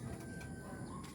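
A pair of homing pigeons released from a loft, their wings flapping in a soft rapid flutter against steady outdoor background noise.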